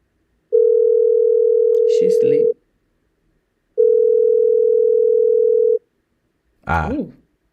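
An outgoing phone call rings through to voicemail: two long steady ringback tones separated by a pause, a brief rustle during the first, then a short burst of a recorded voice at the end.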